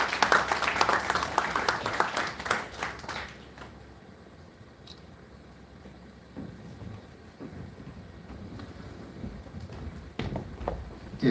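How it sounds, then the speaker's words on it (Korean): An audience claps at a high school's anniversary ceremony. A burst of applause lasts about three and a half seconds, then fades into a quiet hall with scattered faint sounds and a few isolated claps. "큰 박수 부탁드리겠습니다."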